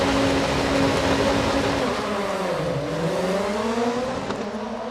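Supercar Lites rallycross cars launch at the start of a semi-final at Kymiring, a loud pack of engines revving high, then pitches sweeping down and back up as the cars pull away together.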